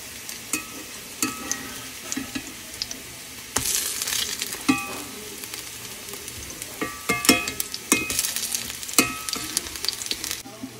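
Pumpkin flower fritters frying gently in a pan give a continuous close sizzle, with bursts of louder hissing and repeated clinks and scrapes of a utensil against the pan, and no voices.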